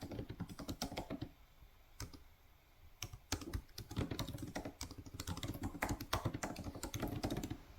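Steady computer keyboard typing as a story is written up, a dense run of close clicks and keystrokes with brief pauses, heard alone without talk.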